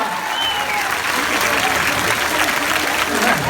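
A live rock concert crowd claps and cheers loudly and steadily, filling the venue with dense, continuous applause.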